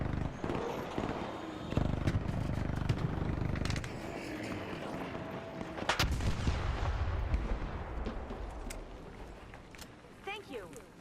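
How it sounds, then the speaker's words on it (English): Gunfire in the video game ARC Raiders crackles through dense game audio, with scattered sharp shots and bursts, some near and some farther off, while someone talks over it. "Somebody shooting at me?"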